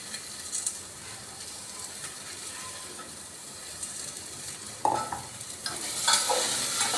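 Chopped onion and garlic stirred in a pan, a soft sizzle under intermittent scraping and rattling strokes of a spoon, louder bursts near the end.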